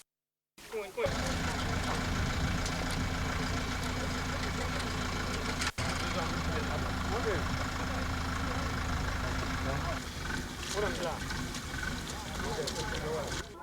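A tractor engine starts and then runs at a steady, loud, low rumble that carries on for several seconds, outdoors during farm work with a rope and a large rake.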